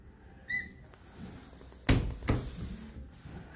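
A closet door in a town house swings open: a faint squeak, then a sharp knock and a second softer bump, close by and brief, with no voices.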